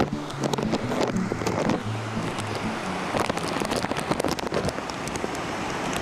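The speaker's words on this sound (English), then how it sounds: "We haven't had a rain this bad since the great storm of '89." Heavy rain pouring steadily during a severe storm near a small swollen river, a dense continuous wash of drops with gusty rumble underneath, close and loud throughout.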